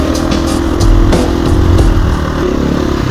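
A dirt bike engine, a Husqvarna FE501 or KTM 350 EXC-F, drones loud and close while being ridden on a trail, holding a rough continuous tone with slight rises in revs.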